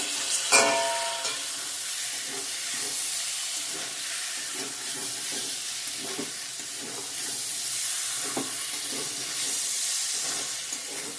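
Spices and bean seeds frying in a pan, a constant close hiss and sizzle with a sharp burst of crackle near the start and soft scraping stirs throughout, no voices.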